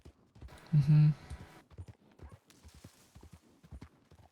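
Horse hooves clip-clop in a steady walking rhythm in a western role-play video game, with a short loud vocal burst near the start and then a run of close, crisp hoofbeats.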